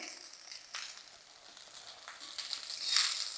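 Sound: rice frying in a pan over medium-high heat

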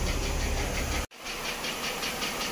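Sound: 2009 Mercedes-Benz ML350 engine running at idle

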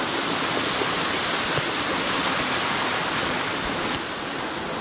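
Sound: waterfall on Mt Baldy hike

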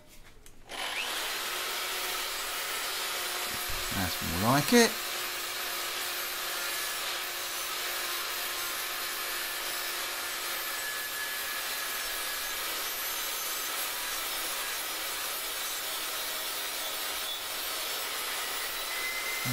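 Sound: power tool sanding a farrier's rasp

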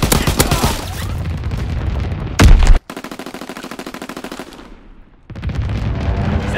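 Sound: anti-aircraft gun firing in Call of Duty WWII video game

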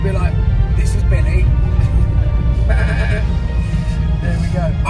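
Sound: sheep bleating

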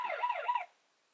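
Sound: audible alarm siren of BOBLOV KJ25 body camera

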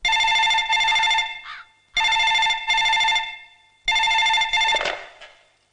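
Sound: telephone ringing

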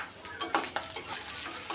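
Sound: ginger, garlic and cumin paste frying in oil

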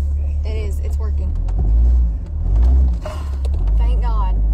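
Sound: car engine starting and running

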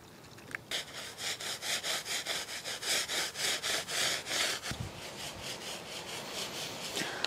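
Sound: rubbing protective coating onto garden stepping stone surface

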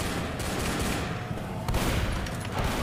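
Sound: gunfire in video game Left 4 Dead

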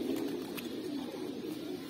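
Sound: teddy pigeon cooing

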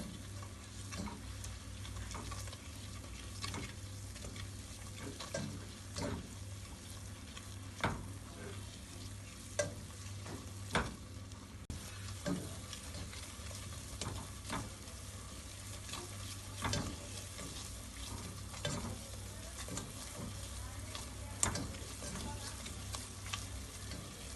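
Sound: flour roasting in melted margarine

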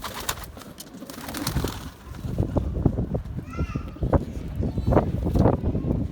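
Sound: pigeons cooing

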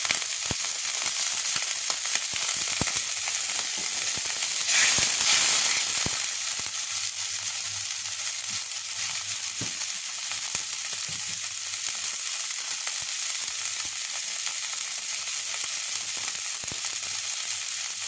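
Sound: sizzling fry of onions with ginger, garlic, coriander, cumin paste

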